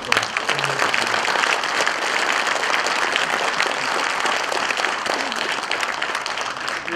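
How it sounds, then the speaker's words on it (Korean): An audience at a lecture welcomes a speaker with warm, continuous applause, a dense wash of many hands clapping that holds steady and close throughout. "한 번 더 박수로 환영합니다"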